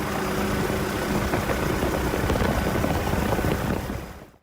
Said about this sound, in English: An extreme stunt pilot flies the German MBB BO-105, the first helicopter ever designed to perform high-level aerobatic stunts